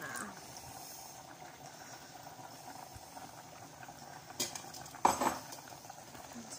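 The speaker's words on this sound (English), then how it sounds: "Thickening up the sauce a little bit. Stirring that." Pasta sauce is stirred in a pan with faint scraping and a soft simmer, punctuated by a few sharp clinks of metal utensil against cookware near the end, and a voice briefly speaks.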